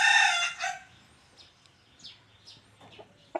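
A young Burmese fighting rooster crows loudly and close at the start, followed by quieter rustling and faint clucks.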